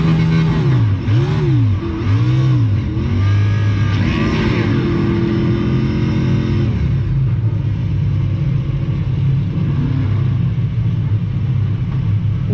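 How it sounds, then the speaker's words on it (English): Race car engines at the NASCAR Hall of Fame start up and rev loudly, with several rising and falling revving sweeps that give way to a steady, heavy idling rumble, and no talk over them. "Drivers, start your engine!"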